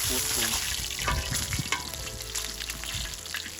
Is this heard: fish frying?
yes